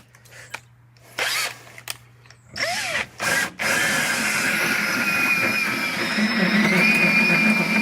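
A power drill cutting a 2.5-inch hole into the bed of a 2019 Ram truck, starting with short bursts and then grinding steadily and loudly through the metal.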